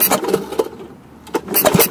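Kohler Magnum 8 engine on a Troy-Bilt Horse tiller, needing a fuel pump, being cranked: loud bursts of pull-start effort and sputter in uneven pulses with a brief quiet gap, never settling into a run.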